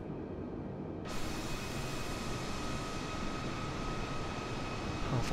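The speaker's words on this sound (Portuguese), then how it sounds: "Galera, pegamos um avião aqui, ó." An airliner passes by in Microsoft Flight Simulator, flying between Guarulhos and Rio de Janeiro Galeão, heard as a constant, loud, broad engine roar that swells and brightens after a second and then holds steady, with no voices.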